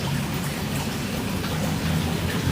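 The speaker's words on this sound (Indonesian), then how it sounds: "Di sini gerimis." Light drizzle falls outdoors, a steady soft hiss of fine raindrops that stays even and continuous throughout, with no talking.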